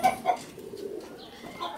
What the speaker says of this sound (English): so I'm going to grab a bird here.